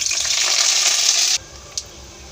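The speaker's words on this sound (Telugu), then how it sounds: "తాలింపు వేగిపోయిందండి." A tempering of cumin, mustard seeds, dried red chilli pieces and curry leaves fries in hot oil, crackling loudly and steadily up close before cutting off suddenly, leaving near silence and one small click.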